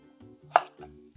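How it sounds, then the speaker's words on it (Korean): A kitchen knife cuts raw chestnuts into thick strips for dandelion kimchi, giving a few close, crisp chops spaced out in a short run. "이렇게 해서 이제 채 썰면 됩니다"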